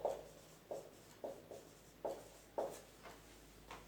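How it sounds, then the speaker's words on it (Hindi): Pen writing corrected spellings of English words on paper, a series of short scratchy strokes coming in quick bursts at close range, with a quiet room around them and no talk. "हम सही लिखेंगे।"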